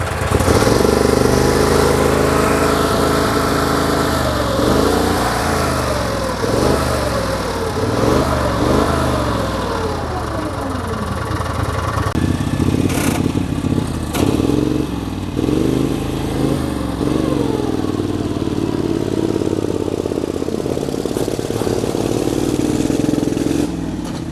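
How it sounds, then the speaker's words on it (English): A 6x6 MAX amphibious vehicle with a swapped carburetor on its Vanguard 16 hp engine runs loud and close, revving up and down repeatedly before settling into a steady rumble, with no talking. "that was a 6x6 MAX Amphibious vehicle"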